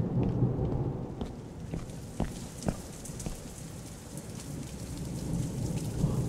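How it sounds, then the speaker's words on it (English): Steady rain falls in the video game The Joy of Creation: Reborn, with several sharp thunder cracks near the start and a low rolling rumble beneath the downpour. "That thunder, man. It needs to stop."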